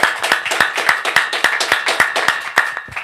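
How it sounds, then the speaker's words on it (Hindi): Rhythmic clapping from a church congregation giving thanks, loud and close, with sharp, evenly spaced claps repeating steadily about three times per second. "फिर से परमेश्वर को धन्यवाद देंगे तालियों के साथ।"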